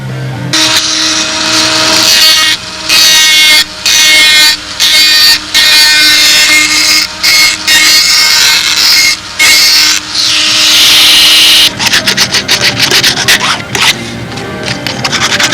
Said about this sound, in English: Now I can take a Dremel tool, because the Dremel tool with a sanding drum will just get me in there with nice clean edges.